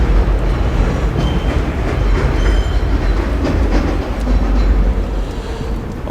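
Train rolling past in Pelham Bay, the Bronx, a loud, close, continuous rumble with rhythmic clacking of wheels over rail joints and faint squeals, no voices over it.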